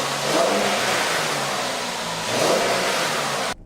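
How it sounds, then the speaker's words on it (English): The engine of a 2013 Mercedes-Benz ML350 runs warm with a steady mid-pitched hum, swelling in two gentle revs, close and loud, then cutting off abruptly at the end. "let's take a look and listen to how it sounds once it's fired up"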